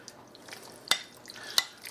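Pork chops and rice with lemon juice and spices are stirred together in a pot, with a quiet scraping stir and two sharp spoon clinks against the metal, faint and close.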